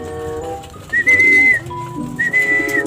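Pet pigeons, three of them kept at home, coo and call in two drawn-out, whistle-like phrases over a low steady background, fairly close and clear.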